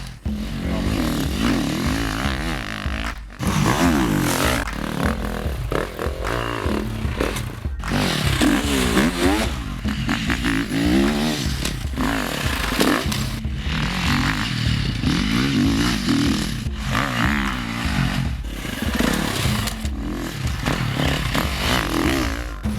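A 2013 KTM 350 XC-F dirt bike ridden on a motocross track, its four-stroke engine revving hard and loud throughout, rising and falling through gear changes with brief dips as the throttle closes.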